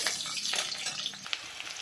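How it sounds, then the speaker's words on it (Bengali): Chopped onion and dried red chillies fry in hot oil in a pan, giving a steady, close, broadband sizzle with small crackles and no talk. "পেঁয়াজ প্রায় ভাজা ভাজা হয়ে গেছে"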